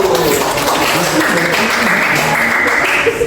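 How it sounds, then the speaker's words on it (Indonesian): A classroom group claps in a loud, sustained burst of applause close by, with voices mixed in beneath the clapping. "Tepuk tangan untuk kelompok 1."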